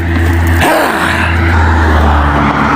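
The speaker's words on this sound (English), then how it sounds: "Look at all these cars out of nowhere, son." Loud, continuous traffic roar with a car whooshing past close by early on, engine hum steady throughout.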